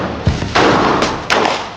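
Two sharp, loud gunshots at the Target Golden Ridge shooting range, the first around halfway through and the second near the end, each leaving a brief ringing decay.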